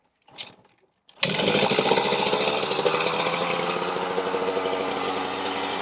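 A Suzuki RM125 two-stroke dirt bike engine, worn and being repaired, catches after a brief sputter and then runs loud and steady up close with a buzzing, crackling idle, no talking over it.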